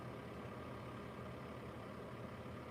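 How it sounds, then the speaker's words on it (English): A truck or car engine runs outdoors at a distance, a faint, steady low rumble with no voices over it. "Hey, there's somebody's truck or car."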